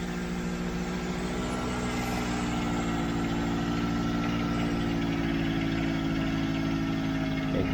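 A 1992 Mercedes 600SEL engine idles steadily after an exhaust leak repair, a continuous close low hum with smooth, even tone throughout and no talk.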